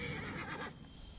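A horse whinnies in Assassin's Creed Origins, a loud, bright neigh in the first half that fades out into quieter game ambience.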